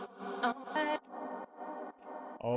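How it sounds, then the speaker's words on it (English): Short chopped vocal snippets looped in a quick rhythm, processed and slightly echoey, fairly quiet. "start from one of the most interesting parts, the vocal chops"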